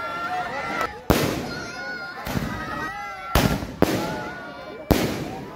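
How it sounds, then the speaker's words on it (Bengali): Fireworks burst over the pitch at the opening of a football tournament final, sharp loud bangs arriving in an irregular series of about five blasts, with people talking between the explosions. "এ সময় মাঠে আতশবাজিতে সকলের নজর কাড়ে।"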